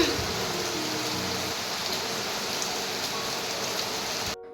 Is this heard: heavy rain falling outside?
yes